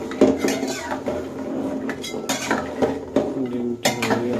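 Egg curry being stirred in a pan, a utensil scraping and clinking steadily against the metal with a continuous rattle of cookware, close and fairly loud.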